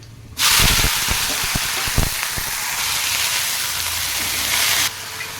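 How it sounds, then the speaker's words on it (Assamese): Fiddlehead ferns (dhekia) hit hot mustard oil with garlic, bursting into a loud, steady sizzle that holds close and even for several seconds before easing slightly at the end. "আৰু এইফালে মই ঢেকীয়াখিনি ভাজি দিওঁ, সোনকালে হ'ব তেতিয়া।"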